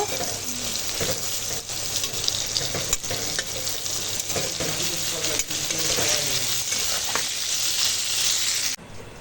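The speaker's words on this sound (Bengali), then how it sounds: "এখন পটল ভাজা চাপিয়েছি এখন পটল ভেজে নেব" Pointed gourd (potol) slices frying in oil in a pan: a steady, close sizzle with scraping and stirring and a few clanks, with no talking over it.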